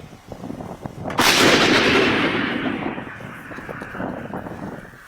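A single heavy artillery cannon blast booms out during a Burkina Faso army field artillery demonstration, its loud rumbling roar slowly decaying over several seconds against faint background noise.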